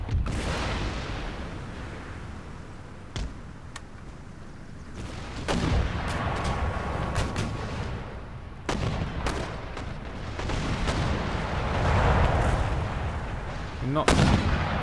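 Mortar and artillery fire in the Empire Total War game, Darthmod with the Ottoman Empire, booms through a dense, rumbling battle bed. Sharp gun reports break out now and then over the constant roar.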